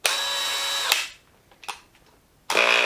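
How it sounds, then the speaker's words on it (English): A rebuilt Dewalt DCD996 hammer drill runs in a loud whine for about a second, stops, gives a couple of brief blips, then spins up again at full speed, close and alone. "Now we'll just check, make sure the hammer works and everything."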